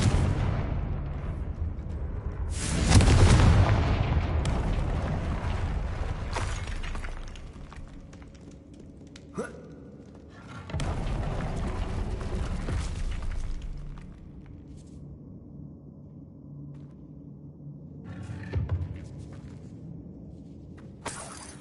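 Confringo spell explosions in the Hogwarts Legacy video game: a loud blast around the third second, then further booming bursts spaced through the scene amid game noise, with no talking.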